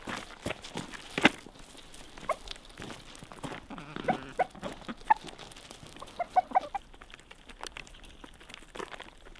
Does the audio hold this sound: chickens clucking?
yes